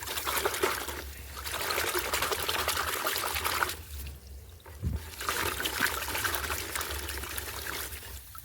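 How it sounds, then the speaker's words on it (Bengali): Running water washes cocopeat off the roots of a gerbera plant, a continuous splashing pour that breaks off twice briefly before resuming at a moderate level. "অবশ্যই আপনাদেরকে ধুয়ে ভালো করে বের করে নিতে হবে"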